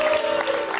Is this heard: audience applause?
yes